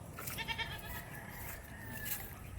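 A goat bleats on a farm where a doe is giving birth, with steady farmyard background noise and the call blending in rather than standing out sharply.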